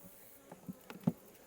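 Honey bees buzz faintly around an opened hive during a mite-treatment check, with a few brief, closer buzzing passes against a quiet background.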